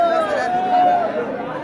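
A large crowd of students chatters at a college in Lohanda, a steady, dense babble of many overlapping voices with no single speaker standing out.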